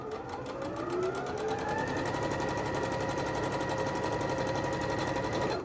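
A sewing machine chain-pieces quilt fabric with a steady, continuous, close whirring drone and rising motor tones, uninterrupted and without talk.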